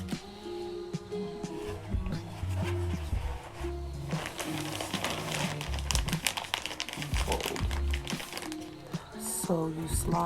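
Thin plastic sheeting crinkles and rustles up close as it is pinned over an electric yellow Latin dress, crackling in busy bursts throughout.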